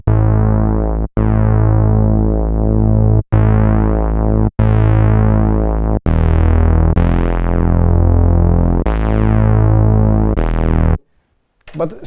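An Analog Keys synthesizer plays a sustained, buzzy note shaped by a filter envelope, retriggered about eight times in loud, even blocks of roughly one to two seconds, then cut off.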